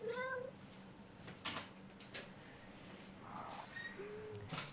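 A cat in a video game meows a few times, faint and thin over a quiet game background, with scattered soft clicks and a sharper sound right at the end.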